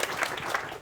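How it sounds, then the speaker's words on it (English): A debate audience breaking into applause, a dense wash of many hands clapping at moderate distance, steady across a brief moment. "Well done. Round of applause."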